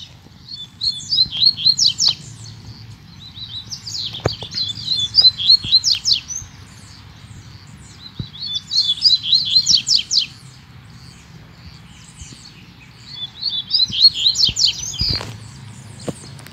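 A pardo songbird sings outdoors in open countryside, delivering three or four bright, rapid trilled phrases separated by pauses, fairly close and clear over a low steady background hum.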